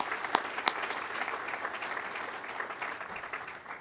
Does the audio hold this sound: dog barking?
no